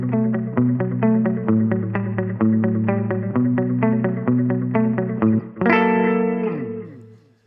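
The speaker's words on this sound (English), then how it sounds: "And there it is, parallel, delay, and spring reverb." Guitar through a Ventris Dual Reverb pedal with parallel delay and spring reverb plays a bright picked phrase, each note trailed by echoing repeats and a splashy reverberant tail, ending on a sustained chord that rings out.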